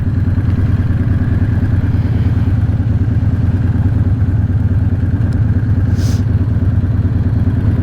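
A 1994 Harley-Davidson Dyna motorcycle on the road gives a steady, loud, low engine drone with a rapid pulsing throb and wind rush, close and continuous throughout with no talking.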